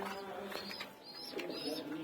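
In a breeding loft, Kaldom pigeons make soft, low coos, faint and somewhat distant. Brighter bird chirps and a few light knocks mix in, and no one speaks.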